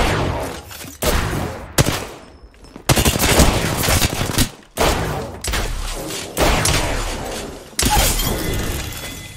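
Apex Legends gunfire with the Mastiff shotgun, a series of loud, sharp blasts spaced about a second apart, each with a shattering crack and a brief decay, close and dominant.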